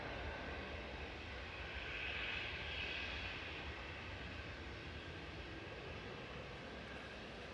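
A Ryanair Boeing 737-800 departs Manchester for Berlin, its jet engines a steady, broad distant roar that swells slightly early on and then holds on alone without any voices.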